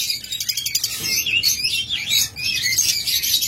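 Pair of yellow and olive-yellow lovebirds chirping, a busy run of high, shrill tweets and squeaky calls close by, continuous over a low background hum.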